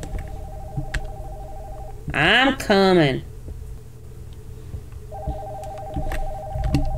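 A telephone rings upstairs in the horror game Nocturnal Visit, sounding in repeated electronic trills at moderate distance, with a pause in the middle while a voice speaks.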